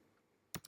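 A few quick computer keyboard keystrokes tapped out while entering a chmod command, two or three short clicks close by after a near-silent pause.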